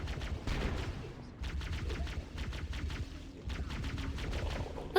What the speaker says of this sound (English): Those pistols so good.